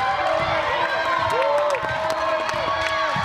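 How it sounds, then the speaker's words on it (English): A basketball game crowd cheers and shouts continuously while sneakers squeak repeatedly on the court below the roar. "The crowd erupted and cheered for April to shoot."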